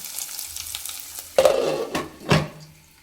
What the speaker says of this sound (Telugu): ఎల్లిపాయలు కూడా మనం బ్రౌన్ కలర్లో వచ్చేంత వరకు అయితే మగ్గించుకోవాలి